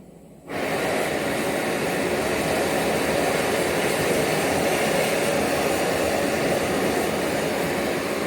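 Gas stove burner on an inverted canister lit and running, a sudden whoosh followed by a steady, loud, close roar that holds unchanged to the end.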